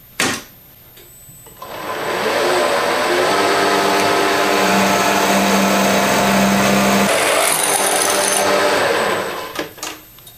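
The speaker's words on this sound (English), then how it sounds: "This is a wobble drive with a ball bearing in there, and then the tool bit." A wobble drive broach with a ball bearing and tool bit cuts a square hole into a 3/8 hole lubricated with Astroglide, a loud steady machine whine and grinding that runs for about eight seconds before stopping, with no talking.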